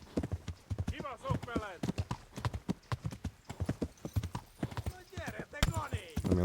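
Rapid rhythmic hoofbeats of a galloping horse in the video game Kingdom Come: Deliverance, steady and close, with a voice talking over them now and then.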